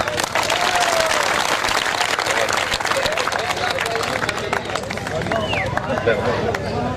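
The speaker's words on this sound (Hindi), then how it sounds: "दोस्तों भरपूर तालियां" Crowd applause at a Saraiki poetry recital, a steady burst of many hands clapping mixed with murmuring voices and talk throughout.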